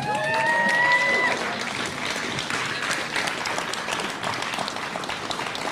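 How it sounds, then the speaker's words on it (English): A crowd claps at a roast held at The Bitcoin Rodeo, steady dense applause with a brief tonal cheer or whistle at the start, continuing evenly to the end. "Keep that applause going."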